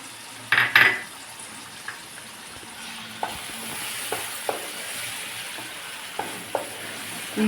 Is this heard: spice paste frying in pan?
yes